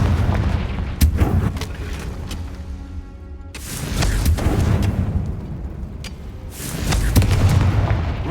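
Confringo fire spell in Hogwarts Legacy bursting in a series of loud, booming explosions, with sharp cracks around one second and seven seconds and rumbling blasts swelling and fading throughout.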